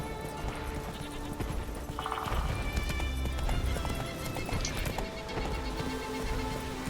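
Roach, the horse in The Witcher 3: Wild Hunt, gallops with rapid, steady hoofbeats and a brief whinny, under game music and ambience.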